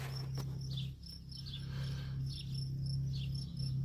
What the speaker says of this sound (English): There's crickets chirping.